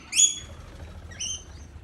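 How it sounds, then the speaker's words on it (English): Parrots and wood pigeons at a garden feeder, with two short high bird calls, one near the start and a fainter one later, over a soft low background rumble. "male and female wood pigeons are out. Looks like a couple of little ones there. Getting some feed off but the parrots will chase them."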